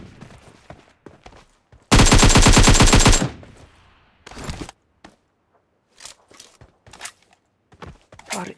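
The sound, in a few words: gunfire from shotgun and rifle in video game Battlegrounds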